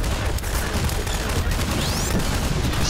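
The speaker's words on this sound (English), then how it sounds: "Secondary pulse rifle fire." Half-Life 2 pulse rifle secondary fire in a first-person shooter, a dense, loud burst of gunfire and booming combat noise filling the clip, with someone talking over it.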